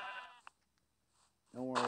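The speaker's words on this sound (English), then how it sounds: "Three sheep. I'm sorry, sheep. I need your wool." Sheep bleating in the video game Minecraft, two short wavering bleats, one at the start and one at the end, separated by near silence, moderately close.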